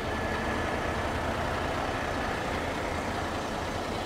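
A 60-ton rotator tow truck runs its engine at a steady, loud rumble that fills the whole stretch, close by with no pauses or talk.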